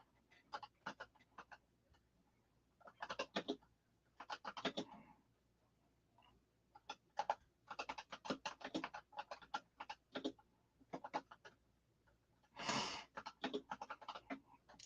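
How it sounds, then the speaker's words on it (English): Computer keyboard typing, quiet bursts of key clicks in irregular clusters separated by short pauses, with no speech over the tapping. "Sorry about the quiet while I'm typing"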